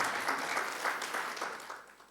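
Church congregation breaking into applause for their pastor during a Sunday service, a dense burst of clapping that starts strong and slowly fades over a couple of seconds, no speech on top.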